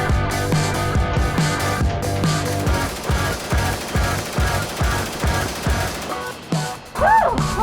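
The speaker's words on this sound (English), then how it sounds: "If machine guns are a little too loud for your taste" An RPD machine gun fires long bursts at a shooting range: loud, close, rapid rattling volleys in a steady rhythm, pausing briefly before a final burst.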